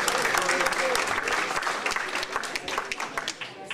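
An audience claps for a musician at a poetry luncheon, dense applause that thins toward the end into scattered individual claps, with some voices mixed in.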